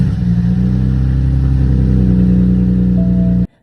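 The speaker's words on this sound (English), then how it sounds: "we're about to get a cold start going" A BMW E92 with the N54 engine idles loud and close during a cold start, holding a steady, high idle until it cuts off abruptly near the end.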